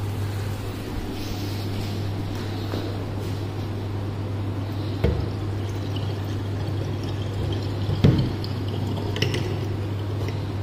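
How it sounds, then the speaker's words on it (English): Green peas are tipped into a simmering paneer curry gravy with potatoes. A wet pouring and squishing sound runs throughout, with a few clinks of a utensil against the pan over a steady low hum. "Okay, so now I will add this green peas also."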